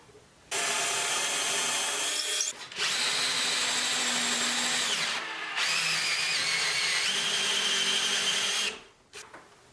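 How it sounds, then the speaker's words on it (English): A power drill bores a pilot hole into a wooden woodturning project, whining in three sustained bursts separated by brief pauses, each spinning up and back down, close and loud with no talking. "Drill a pilot hole."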